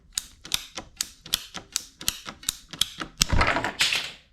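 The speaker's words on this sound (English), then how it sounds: "All right, guys, I'm cutting my black tube." A black plastic tube is being cut by hand with a cutter while building a DIY gold hand dredge pump, giving a close series of about a dozen sharp, evenly spaced clicks and snips that end in a longer crunching cut.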